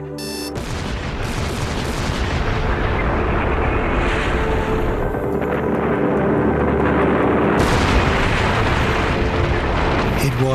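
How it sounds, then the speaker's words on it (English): Dynamite charges set at each end of a channel at the Itaipu Dam on the Parana go off in a sudden loud blast that rolls into a long, dense roar of debris and rumble lasting for seconds. "Dynamite charges are set at each end of the channel."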